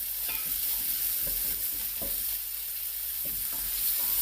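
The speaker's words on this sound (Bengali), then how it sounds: "প্রথমে পেঁয়াজ আর গাজরগুলো তেলে ভেজে তুলে ফেলবো" Onions and carrots fry in hot oil with a steady, close sizzle, broken now and then by a few soft stirring scrapes in the pan, and no voices.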